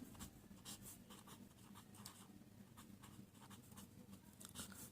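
Chalk or marker scratches on a board while a maths step is worked out, a faint, close, irregular run of short strokes and taps with no speech.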